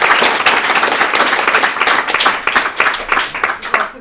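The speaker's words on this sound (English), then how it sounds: "So a round of applause." An audience at a panel talk on direct-to-consumer brands gives a dense, loud round of clapping that continues steadily for several seconds.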